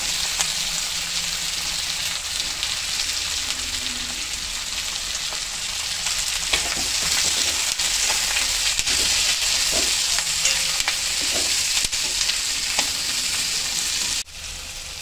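Onions frying and being stirred in a pan while cooking a bitter gourd thokku: a steady, loud sizzle fills the whole stretch with occasional soft scraping stirs, and there is no talk.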